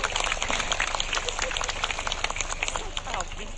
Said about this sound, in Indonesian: tepuk tangan buat Pak Bupati kita sama Ibu